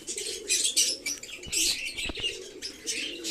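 Pigeons flap their wings in several quick rustling bursts close by, mixed with soft chirps and coos; a thump or two sounds among the flutters, and no one speaks.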